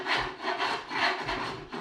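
A flat chisel scrapes old sealant off the metal sunroof frame of a VW T4 camper van, with two rhythmic rasping strokes in quick succession, close and fairly quiet.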